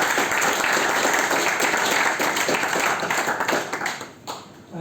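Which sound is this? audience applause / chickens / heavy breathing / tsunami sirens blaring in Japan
audience applause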